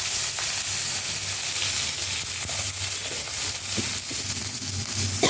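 Chopped tomato hits hot oil tempered with chili and panch phoron for a vegetable curry, setting off a loud, steady sizzle and crackle that runs throughout with no talk.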